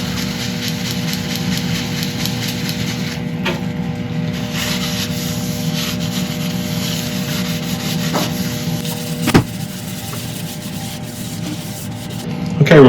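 Steady dry rubbing of a beeswax, carnauba and microcrystalline wax finish in linseed oil into a turned wooden burl, close and continuous, with a low machine hum underneath and a sharper knock near the end.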